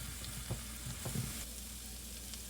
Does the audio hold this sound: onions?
yes